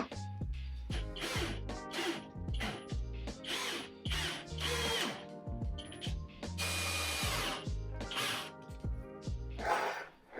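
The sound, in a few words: power tool driving screws into cupboard wood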